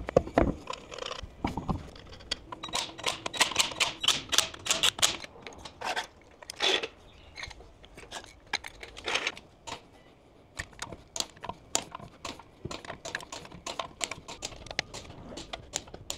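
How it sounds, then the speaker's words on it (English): A torque wrench works over the wheel nuts of a Tesla Model Y RWD, producing quick, close runs of small mechanical clicks and ratcheting ticks in irregular bursts with brief pauses between. "we're going to use the torque wrench wherever I've put that to torque up these wheel nuts"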